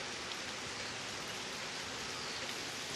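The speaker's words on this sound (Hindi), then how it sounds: "तो ये हो रही है बारिश" Steady monsoon rain pours down without pause, a dense, even hiss of drops close by, with no voices and no breaks.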